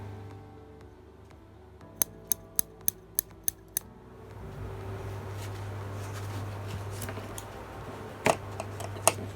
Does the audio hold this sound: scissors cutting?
yes